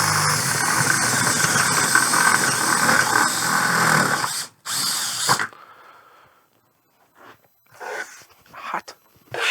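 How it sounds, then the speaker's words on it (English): A power drill with a step bit bores through the lid of a keezer, a loud sustained whining grind for about five seconds that cuts off abruptly, followed by near silence and a few brief, fainter bursts. "So we're gonna drill all the way through."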